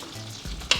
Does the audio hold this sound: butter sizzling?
yes